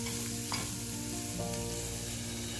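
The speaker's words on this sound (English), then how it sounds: "Just give a stir for a few seconds, that's enough." Grated carrot and onion sizzle in a hot pan while being stirred, a steady close frying hiss with soft scraping strokes of the spoon, no voices over it.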